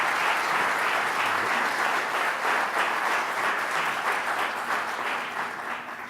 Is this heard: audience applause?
yes